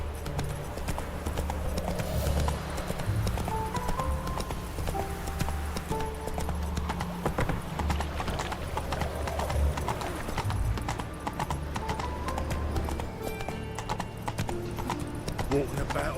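Hooves clip-clop steadily at a trot as a horse is ridden in The Witcher 3: Wild Hunt. The rhythm runs continuously alongside game music and ambience, with voices speaking over it.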